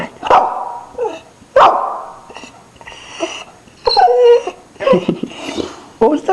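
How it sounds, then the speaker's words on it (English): A four-year-old Shetland sheepdog alternates short barks with whining, whimpering vocal sounds in an irregular back-and-forth, close to the microphone and fairly loud. "That was my 4-year-old Sheltie."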